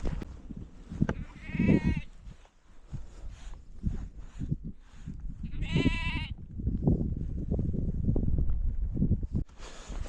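Sheep on a hike across Kinder Scout, with two loud, close bleats a few seconds apart, set against gusty wind and rustling outdoor noise.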